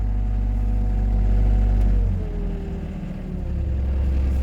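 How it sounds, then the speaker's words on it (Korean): A car engine runs with a deep rumble, its pitch dipping midway as the revs drop, then steadying again; loud and close, no talking. "엔진을 올렸는데도 엔진이 그 소리가 아주 안정적입니다."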